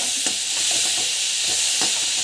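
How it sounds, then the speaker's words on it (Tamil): Grated coconut frying and being stirred in a pan during home cooking, a steady close sizzle with soft scraping strokes of stirring recurring throughout, and no voices. "ஸோ நல்லா வந்து இது வந்து ஃப்ரை ஆகணும்."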